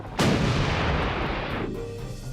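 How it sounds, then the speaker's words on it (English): An M68 105mm tank cannon on a Stryker vehicle fires a single loud, heavy boom that rolls into a long, sustained rumble and echo, with no voices. "for the Stryker vehicle, that's the M68 105mm cannon."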